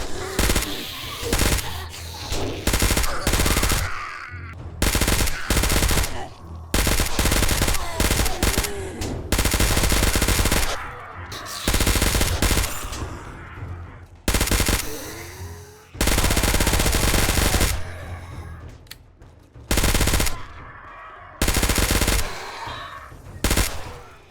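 Sustained bursts of .45-caliber automatic gunfire in the modded video game 7 Days to Die, loud, rapid volleys broken by short pauses and running steadily throughout.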